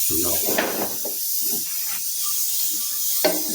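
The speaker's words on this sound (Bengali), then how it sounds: "সুন্দর করে ভেজে নেব" Rice sizzles and hisses steadily in a hot pan up close, while a person talks over the frying.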